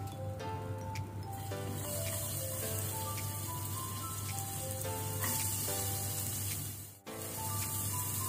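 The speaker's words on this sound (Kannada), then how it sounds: "ಒಳ್ಳೆ ಕೆಂಪಾಗೋ ತನಕ ನಾವು ಮೀಡಿಯಂ ಫ್ಲೇಮ್ ಅಲ್ಲಿ ಫ್ರೈ ಮಾಡ್ಕೊಳ್ಬೇಕು" Sliced onion frying in a pan over a medium flame, a steady, close sizzle with fine crackling that runs unbroken, briefly dipping near the end.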